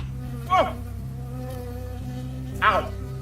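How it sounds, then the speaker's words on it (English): A bee in the Firewatch video game buzzes in two short, sharp passes about two seconds apart, each rising and falling in pitch, over a constant low ambient hum. "I got stung by a bee."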